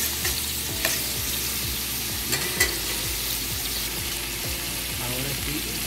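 Onion frying in a pan for shrimp chow mein, a steady close sizzle with repeated stirring scrapes and clinks of the utensil throughout, no talk.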